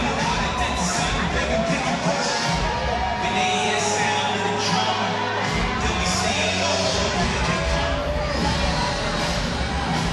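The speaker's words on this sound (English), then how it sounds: "Crowd getting ready here" A stadium crowd before a USWNT vs Belgium women's soccer match keeps up a loud, continuous roar of cheering and chatter, with scattered whoops over the steady hubbub and a voice talking underneath.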